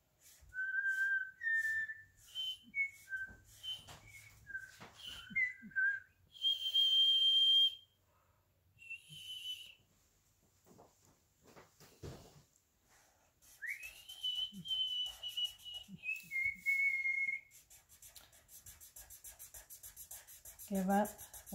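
Someone whistles a tune in short melodic phrases, with pauses, scratchy rustling and soft background noises between the notes.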